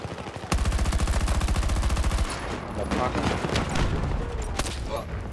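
Rapid automatic gunfire in an online shooter video game, a loud sustained burst of evenly spaced shots followed by more scattered shots and game noise, with a voice reacting briefly.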